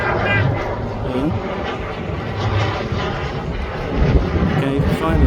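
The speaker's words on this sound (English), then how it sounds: "this is American Airlines coming in." A large American Airlines jet approaches to land over a boat race in Anguilla, its engine roar a steady, loud broadband rumble throughout, with crowd noise and voices beneath.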